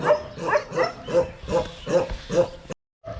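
A large shepherd's guard dog on a mountain roadside barks in a steady run of about eight loud, close barks, evenly spaced, then a brief silence before one more bark begins.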